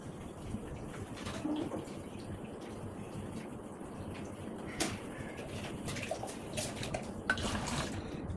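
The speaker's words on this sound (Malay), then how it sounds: "Kita tambah air sikit." Water being added to a pot of blended ingredients for a Kelantan-style white coconut vegetable curry, a soft continuous pouring wash with faint splashes, fairly quiet and heard alone.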